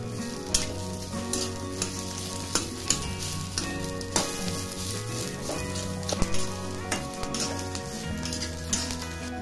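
Onion, chili and grated coconut roast and sizzle in a pan, with steady close crackling and frequent scraping, clattering stirs from a spatula, and no talk over it.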